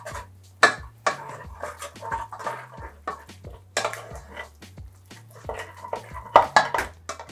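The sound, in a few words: stirring egg into choux pastry dough in pan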